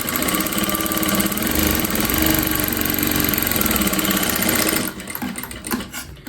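A sewing machine stitches a strip onto a Katori blouse with a loud, continuous close-up rattling hum for several seconds, then stops abruptly into quieter clicks and handling.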